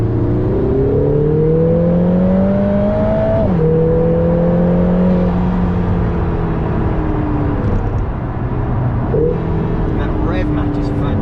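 A Lotus Emira sports car accelerates hard, its loud engine note climbing steadily and dropping sharply at each of several gear changes, heard close and sustained throughout.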